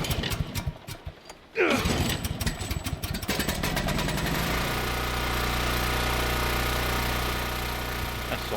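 Generator in The Last of Us video game rattling through a cranking start, then catching and settling into a loud, steady mechanical drone that runs unbroken to the end.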